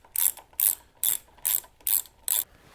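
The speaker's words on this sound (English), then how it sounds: "And start snugging the bolts down." A ratchet tightens the handlebar bolts on a Harley during a neck bearing job, six crisp, evenly spaced clicking bursts, close and loud with short quiet gaps between them.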